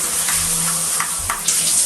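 Water sprays steadily from an adjustable shower head set to its outer-ring pattern, a continuous even hiss with faint splashing and no voices.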